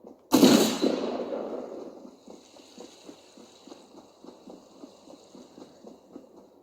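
A burst of gunfire erupts behind the player in Fortnite on a Nintendo Switch Lite, a loud broadband blast at the start followed by a steady run of quieter rapid shots pattering on.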